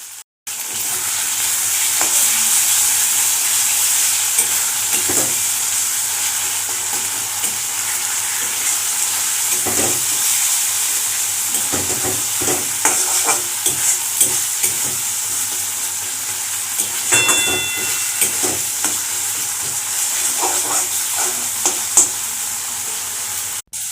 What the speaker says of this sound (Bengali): আদা বাটা রসুন বাটা তারপরে টমেটো বাটা লঙ্কা বাটাটা একসাথে দিয়ে দিয়ে ভালো করে আমি কষতে থাকবো